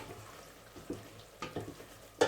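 Rabbit meat fries quietly in a pan while being stirred, a soft sizzle broken by a few scraping, clattering strokes that grow sharper toward the end.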